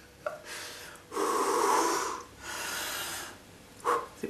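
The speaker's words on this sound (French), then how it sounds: "Mon Dieu, je recommence à être essoufflée." A woman out of breath pants heavily, with a sharp gasp followed by two long, loud exhalations and a final quick snorting breath, close and with no words spoken.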